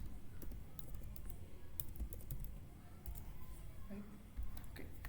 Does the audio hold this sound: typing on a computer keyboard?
yes